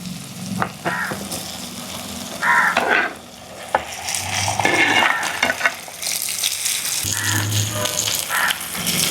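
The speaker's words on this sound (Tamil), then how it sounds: "இந்த நேரத்திலேயே நாங்கள் கழுவி எடுத்து வச்சிருக்கிற இறாலை முறுக்க எண்ணெயில் வதக்கிட்டே இன்றைய கறி வைப்போம்" Prawns sautéing in oil with onion and tomato for a raw mango prawn curry, giving a close, crackling sizzle broken by repeated stirring scrapes and clatter.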